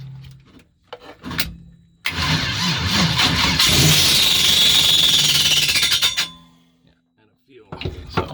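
Starter motor cranking an LS-swapped Nissan Altima engine, a burst of harsh grinding roughly four seconds long, with a rising whine partway through, set between quieter stretches of faint clicks and a voice.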